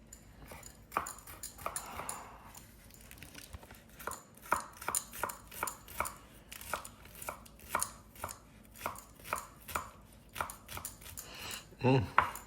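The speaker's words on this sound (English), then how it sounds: "I washed them, so we're gonna cut these. We're gonna cut some of the thyme." Freshly washed mustard greens and thyme are chopped with a knife on a cutting board, giving a run of sharp, evenly spaced taps close by, with a brief rustle of leaves early on.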